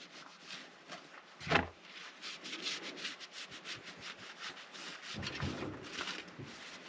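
A rag soaked in brake cleaner is wiped around the perimeter of a transmission oil pan on a 62TE automatic in a Ram Promaster, giving a steady close rubbing and scrubbing sound with a sharper swipe partway through.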